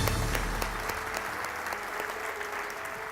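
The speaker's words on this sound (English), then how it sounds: "Let's give her a big round of applause." A live audience at an inspirational speaker's event gives a steady, full round of applause, dense and sustained throughout with no talking over it.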